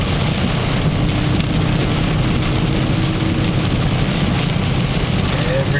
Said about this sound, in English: but it's really pouring right now.